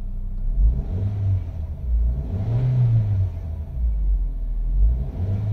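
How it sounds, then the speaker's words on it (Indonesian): Engine of a 2010 Toyota Avanza G manual revved repeatedly, several rising and falling surges of a mid-pitched rumble, close and loud. "Saya gas nih ya."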